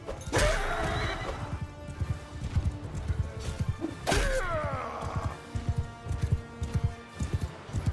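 Horses in the battle game Bannerlord whinny loudly twice over a steady, rapid clip-clop of galloping hooves, with occasional thuds and impacts of combat close by.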